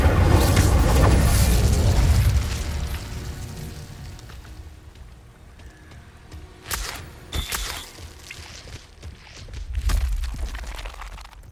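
Incendio fire spell cast in the video game Hogwarts Legacy, a loud rushing whoosh and boom that fades, followed by scattered cracks and a second swelling burst.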